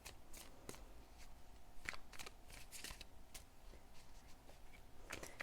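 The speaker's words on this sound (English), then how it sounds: "I'm doing a little bit of extra shuffling for you here." Tarot cards shuffle close by in a quiet room, a series of crisp riffling snaps and soft slides coming in irregular bursts.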